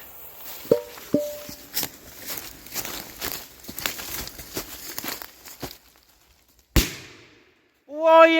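A small 0.8 gram FP15 flash firecracker, a sharp single bang late in the clip, preceded by crunching footsteps and scuffling outdoors and followed by a voice.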